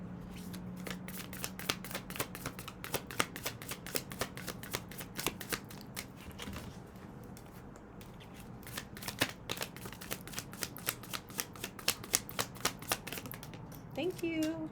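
Tarot cards being shuffled for a weekly energy reading, with repeated crisp riffling snaps and flutters in quick bursts across the span, close and fairly quiet, with a voice talking in places.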